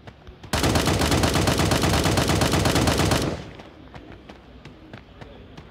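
A weapon in the mobile shooter Sausage Man lets off a loud, unbroken automatic burst lasting almost three seconds. Faint scattered shots and clicks follow once the burst stops.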